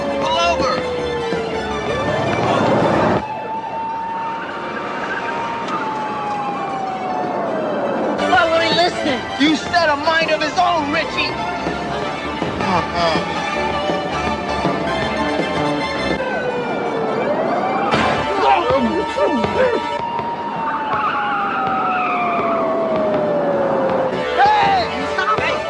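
A police car siren wails in rising and falling sweeps, repeating across the scene and fading in and out, with a car and several voices speaking over it.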